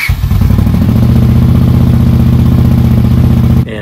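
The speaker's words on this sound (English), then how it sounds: "It didn't even crank once, more than once, before the engine took right off." A motorcycle engine, just refitted with a rebuilt carburetor, fires up almost instantly and settles into a loud, steady, close-up idle that runs unbroken until cutting off abruptly near the end.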